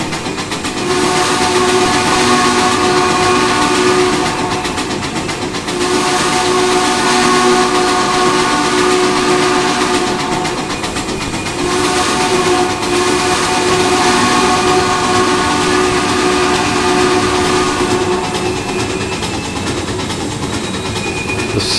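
In the train simulator game Trainz 2019, a PS-4 steam locomotive's steady rhythmic chuffing blends with a long sustained whistle tone, continuous and loud throughout, no talking.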